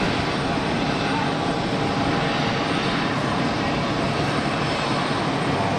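An EasyJet airliner on long final approach into Geneva Airport drones loudly and continuously, a dense engine roar with a person talking underneath.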